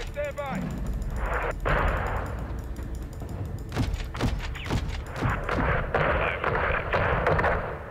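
Explosions in Call of Duty: Modern Warfare 2: a series of sharp booming blasts and cracks, several in quick succession, heard with someone talking over them.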